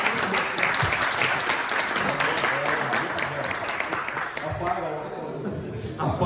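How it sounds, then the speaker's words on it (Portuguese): Audience applause in a classroom lecture for brave volunteers, a brisk burst of many hands clapping with voices chattering underneath, easing slightly toward the end. "Palmas para os corajosos."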